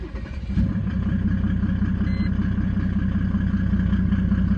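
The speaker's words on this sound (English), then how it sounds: "just to give you an idea of how quickly these guys should start up, even warmed up" A Mercedes W210 with an OM606 diesel engine fires on a warm start after a brief crank, then settles into a loud, steady, close diesel idle with a rattly clatter.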